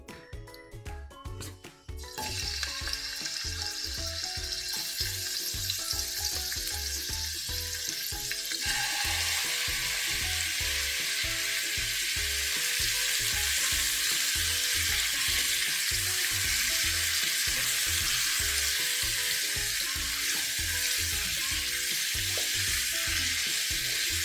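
Chicken lightly frying in sunflower oil in a pan for masala chicken, a continuous bright sizzle that rises and holds steady after a brief opening clatter, near and loud.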